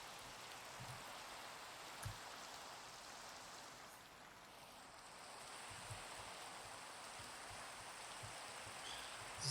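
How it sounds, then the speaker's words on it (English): Steady rainfall in Minecraft hisses continuously as a soft wash of noise, with a few faint low thumps scattered through it. "This is not a good day for rain."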